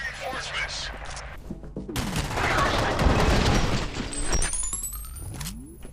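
Rapid gunfire bursts crackle from the video game F.E.A.R., loud and dense in the middle stretch with scattered debris clatter, set against a low background rumble.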